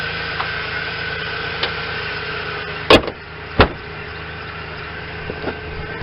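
A truck engine idles with a steady low rumble, broken by two sharp knocks partway through.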